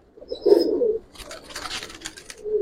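Pigeons at a bird market giving soft, close coos, a low burst first, then a second quieter stretch of cooing with faint rustling between.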